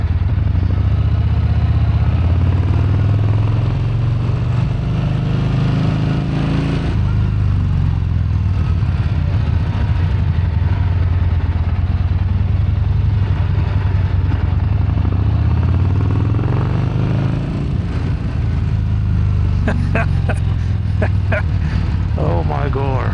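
A sports motorcycle idles close by with a loud, steady low rumble and occasional revs, while a rider talks over it.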